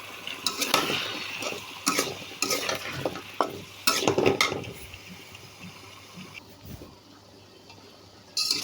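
Thin slices of bitter gourd and potato are stir-fried in a pan with a spatula, giving bursts of scraping and clattering over a soft sizzle that quiets toward the end.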